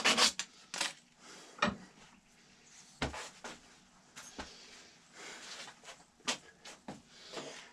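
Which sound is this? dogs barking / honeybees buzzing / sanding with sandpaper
sanding with sandpaper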